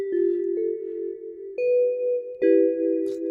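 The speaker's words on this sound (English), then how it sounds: "it's this digiphone. It's in the keys." A few bell-like digiphone synth key notes ring out one after another, sustained and clean, with soft chiming overtones and no talking.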